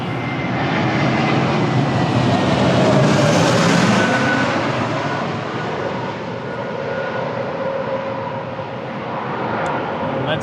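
An airliner passes close by at Lisbon Airport on a gusty, windy day, its loud engine roar swelling to a peak and then slowly fading away.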